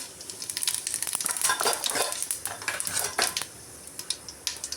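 Whole fennel seeds, bay leaf and stone flower go into a hot pan, bringing a dense crackle and sizzle mixed with busy metallic clatter of a utensil against the pan.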